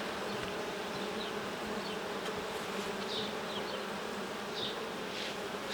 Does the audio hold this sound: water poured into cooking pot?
no